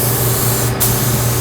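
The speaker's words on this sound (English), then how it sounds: "So I go ahead and spray all my tight crevices" Air spray gun fed at about 35 PSI spraying ceramic coating into tight crevices of a part, a steady close hiss of compressed air and atomized coating.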